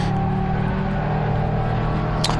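Mazda Miata race car lapping Harris Hill Raceway during an endurance race, a steady continuous engine drone held at even loudness throughout, with a brief sharper burst near the end.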